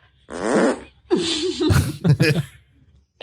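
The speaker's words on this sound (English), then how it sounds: "That's a diaper fart." Several breathy fart noises from a dog, heard from a played clip in a podcast studio, come in short bursts close up, with a few brief vocal reactions between them.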